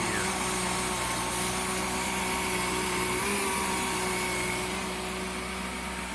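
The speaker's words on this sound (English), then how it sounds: "The hissing sound you hear is actually regulated because it's had regulated pressure already." A steady, loud broadband hiss of regulated air escapes from the regulator of a VMAC VR150 compressor, with an engine hum beneath it throughout.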